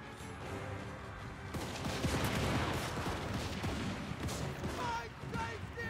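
Massed gunfire from Kislev troops in the strategy game Total War: Warhammer 3, a dense crackling fusillade building after a quieter start and rolling on, with a voice speaking over part of it.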